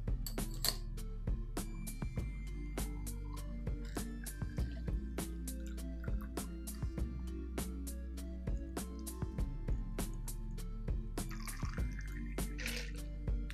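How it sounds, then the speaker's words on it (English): A Between the Sheets cocktail is strained from a shaker into a glass: a soft steady trickle of liquid with scattered drips and light clicks against a low background hum, no voices. "And then you wanna strain your drink into your glass."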